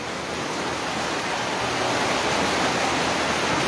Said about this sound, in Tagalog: Taas ang ulan, grabe. Wala pa rin hinto yung ulan.